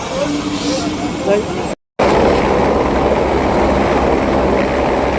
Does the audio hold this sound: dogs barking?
no